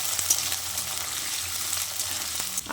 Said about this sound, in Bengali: এর মধ্যে কেটে ধুয়ে রাখা আলুগুলো দিয়ে দিচ্ছি আলুগুলো দিয়ে বেশ লালচে করে ভেজে নিতে হবে